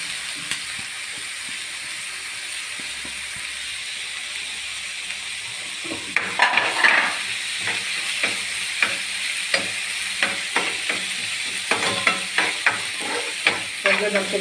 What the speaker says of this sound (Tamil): நல்லா நெய்யில் வந்து நல்லா வதக்கியாச்சு.